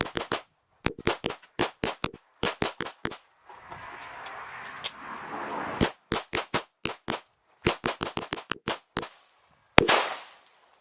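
Rapid strings of sharp gunshots from a Tisas BR9 9mm pistol during a thousand-round endurance test, loud close cracks in bursts with short pauses and a stretch of rustling noise between volleys.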